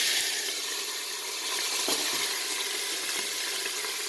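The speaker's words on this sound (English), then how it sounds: "So first now I'll saute up the meat." Beef, venison and sausage for goulash saute in an Instant Pot, giving a steady broadband sizzle throughout with a faint stir or clink near the middle and no talking.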